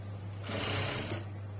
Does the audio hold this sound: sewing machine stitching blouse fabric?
yes